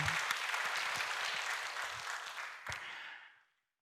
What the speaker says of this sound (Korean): 큰 박수 합시다.